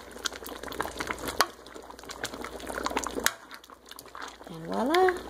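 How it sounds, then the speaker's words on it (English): Homemade pasta sauce of heirloom tomatoes and fresh basil being stirred in a pot, giving a run of wet scraping and clattering strokes, with a brief voice near the end. "And stir it"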